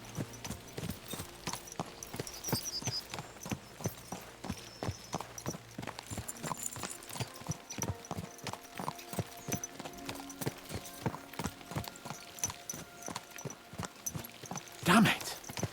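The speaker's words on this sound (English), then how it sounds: "Let's really spur these horses on, eh?" Horses' hooves clip-clop in Kingdom Come Deliverance 2, a steady run of sharp, evenly spaced hoof strikes that carries on for the whole stretch over a low background hum. A louder burst comes near the end.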